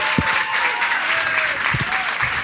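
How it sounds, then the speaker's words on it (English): An audience breaks into a round of applause at a live concert, with scattered claps and cheering from a crowd, while a voice speaks over the noise. "Let's give a round of applause"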